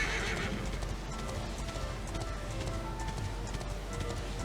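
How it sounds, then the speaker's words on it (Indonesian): A horse gallops with rapid clip-clop hooves and neighs in Dragon Quest XI S, a steady, busy run laid over game music and ambience with no talk. "Cepet kayaknya nih kalau naik kuda nih lari"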